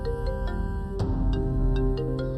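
A mobile phone rings with an incoming call, a tonal electronic ringtone pulsing in short repeated notes with a steady melodic line, close and clear with no talk.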